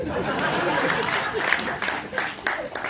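A crowd at a comedy poetry show claps heavily for the comedian Sunder Kataria, dense sustained applause with a little chatter and laughter mixed in, fairly close and full.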